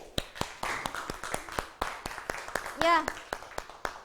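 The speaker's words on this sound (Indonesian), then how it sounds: "Tepuk tangan" A classroom of students clapping for a classmate, a run of sharp, irregular claps spread across the whole stretch, with a brief spoken word in the middle.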